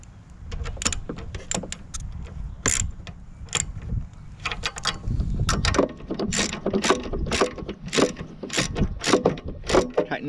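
A ratchet tightens bolts on a push mower, rapid clicking bursts repeated in short runs at close range, with no talk over them.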